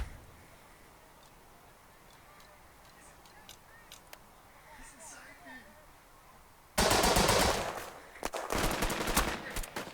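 Gunfire in the World War II tactics game Burden of Command, a sudden loud crackle of rifle and machine-gun shots bursting in after a quiet stretch of low ambient noise and faint calls.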